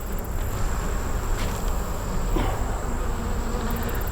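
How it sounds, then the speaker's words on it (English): Dense, steady droning buzz of many honey bees in an open beehive during an inspection, close and continuous with no talking. "We got some bees in here, hanging off the bottom."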